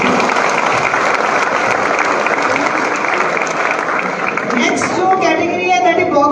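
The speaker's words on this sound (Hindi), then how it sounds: "जोरदार ताली" Loud, sustained applause from an audience at a university ceremony in Hanumangarh honouring national trophy-winning athletes, a dense wash of clapping that carries on throughout with a voice speaking over it.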